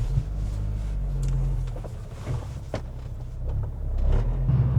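A Volkswagen GTI fitted with an aftermarket short shifter is on a test drive, heard from inside as a steady low engine and road rumble that swells slightly toward the end.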